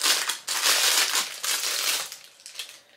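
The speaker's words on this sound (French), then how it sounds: "Il faut que je déballe parce que là." A well-wrapped package holding a lip oil is unwrapped up close, giving a continuous run of loud plastic crinkling and crushing in bursts that taper off toward the end.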